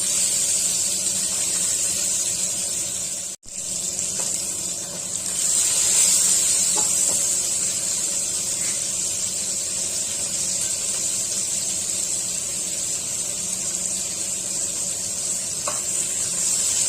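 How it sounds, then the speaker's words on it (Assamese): Pieces of pointed gourd (parwal) fry in oil in a pan over a medium gas flame, giving a steady, even sizzle and hiss throughout. A few faint clinks sound briefly, and no one speaks. "গেছৰ ফ্লেম মিডিয়ামত দিলো পটলখিনি অলপ ৰং হোৱাকৈ ভাজি লম"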